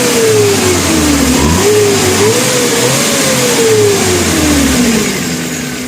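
A 2017 Suzuki Futura compact pickup engine revs loud and close, rising and falling in pitch over several seconds before easing off toward idle, heard alone.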